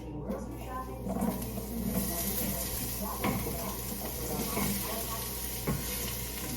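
Vegetables and green onion frying in a pan, a steady close sizzle throughout with occasional pops, while someone talks over it.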